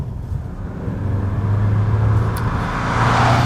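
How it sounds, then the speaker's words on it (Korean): A Hyundai Sonata 1.7 diesel car accelerates toward about 130 km/h, a low, steady engine and road rumble that swells gradually, heard from inside the cabin with no talk. "가속 페달을 밟고 스피드를 끌어올리고 있을 때"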